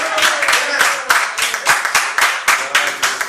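A church congregation claps steadily, with dense, overlapping hand claps that rise and fall in waves and keep going the whole time.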